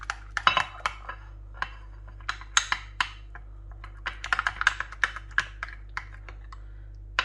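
Samosa pastry glue paste being mixed in a bowl, a string of irregular light clicks and scrapes of a utensil against the dish, close and fairly quiet under a low steady hum, with no talk.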